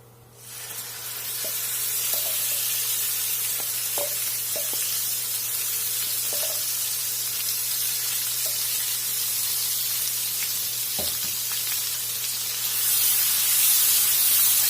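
Masala paste for restaurant-style paneer tikka masala sizzles in a hot pan, a steady close spray-like hiss running throughout with a few faint clinks, growing slightly louder near the end.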